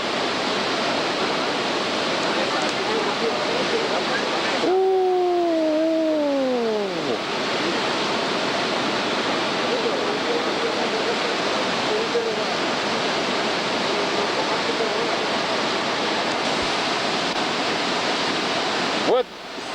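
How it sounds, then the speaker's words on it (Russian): Victoria Falls on the Zambezi River in Zimbabwe gives off a constant, loud broadband roar for the whole stretch, briefly crossed early on by a sliding, whistle-like tone. "Вот здесь с водопада река Замбези идет."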